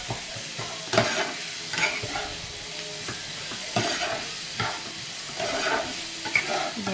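Masala stirred and mixed in a frying pan, with repeated scraping strokes of a spoon over a steady sizzle, close and fairly loud, no talking.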